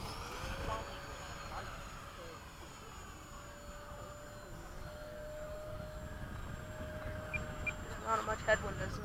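A MiG-21 jet doing a touch and go, heard as a steady, fairly faint jet engine whine with a sustained high tone and broad rumble, plus a few light clicks near the end.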